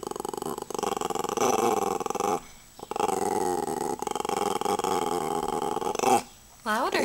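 A pet dog growling on command, a long continuous rumbling growl held for several seconds, close and loud, broken by short pauses, with a voice prompting alongside.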